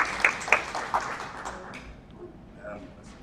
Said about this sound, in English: Can we clap it up for one more time?